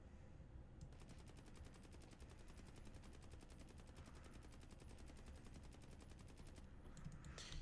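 Sustained rapid automatic AK rifle fire in Escape From Tarkov, a steady string of closely spaced shots running for several seconds before stopping near the end.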